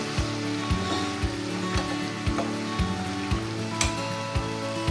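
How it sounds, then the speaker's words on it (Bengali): A vegetable bhaji of flat beans and potato sizzles steadily in a frying pan, a constant close hiss with soft, regular clicks of a utensil repeating roughly every half second. "আর এখানে ভাজিটা হচ্ছে, কি হচ্ছে আমি জানি না, শুধু এটাই জানি যে একটা ভাজি করতেছি আর ভাজিটা হচ্ছে"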